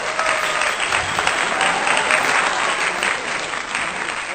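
A small group claps steadily at a birthday celebration, dense continuous applause throughout with a faint murmur of voices underneath.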